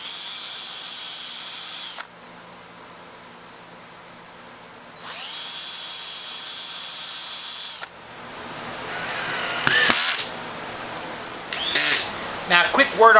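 A power drill drives screws into a wooden lathe faceplate: two sustained high whining runs separated by a pause, then rattling, clattering handling and short, uneven bursts of drilling close to the mic.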